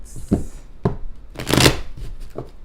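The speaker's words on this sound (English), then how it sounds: "Couple more shuffles and I'll get right into it." Tarot cards are shuffled by hand in a few quick riffling bursts, close and crisp, with the loudest rush in the middle and shorter flicks before and after.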